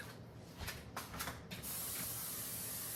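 Cooking spray is sprayed into a baking pan over the kitchen sink in several quick hissing bursts, followed by a longer steady spray, close and clear with no talking.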